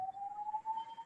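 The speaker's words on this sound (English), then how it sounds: "four ambulances are going across it." Ambulance siren passing at a distance: a single faint, thin tone that glides slowly upward across the whole stretch, with no voices over it.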